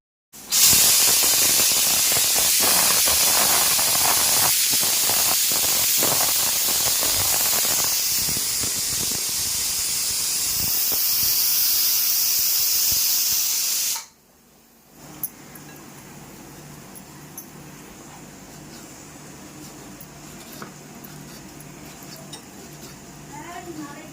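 A pressure cooker with mutton boti curry inside vents a loud, continuous hiss of steam for about fourteen seconds before cutting off abruptly, leaving quiet kitchen background with faint clatter.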